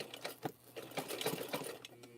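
A sewing machine runs in short, uneven stitching bursts, a quiet mechanical patter close by with brief pauses between runs.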